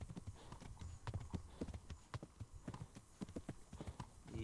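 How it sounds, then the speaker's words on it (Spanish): Steady clip-clop of horse hooves at a brisk trotting rhythm in the video game Kingdom Come: Deliverance, faint and close, with no talking. "Se nos está cansando ya el caballo."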